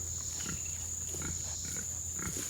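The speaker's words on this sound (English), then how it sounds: "Hey, pig. Over here. Come on, boys." Pigs grunting on a farm, several short low grunts repeating at intervals over a constant high-pitched hum and steady background noise.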